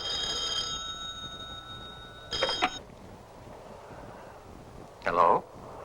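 An old-fashioned telephone bell rings in two short bursts, about three seconds apart, over a faint background hum.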